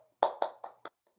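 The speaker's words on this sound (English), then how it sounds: "Is that a hand clap, Tina?" A few sharp, distinct hand claps ring out one after another in a quiet room at the close of a talk, soft and fairly near with silence between them.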